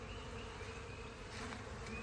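A dense, steady buzz of a swarm of bees clustered around a queen, close and continuous, with no voices.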